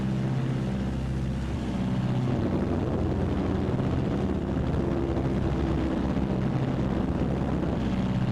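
Engines of a Martin B-26 Marauder in flight make a loud, steady propeller drone heard from inside the aircraft, a continuous throbbing hum with no talk.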